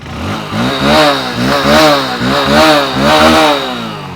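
A close, loud 100 cc Hero motorcycle engine is revved repeatedly, the pitch rising and falling in several throttle blips with no talking.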